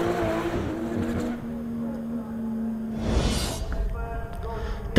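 Drift cars battle at Lydden Hill in a British Drift Championship round, engines droning and revving as they sweep past, with a sharp tyre-squealing whoosh midway and a commentator talking over the action.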